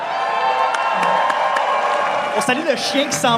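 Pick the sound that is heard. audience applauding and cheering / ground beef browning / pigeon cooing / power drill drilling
audience applauding and cheering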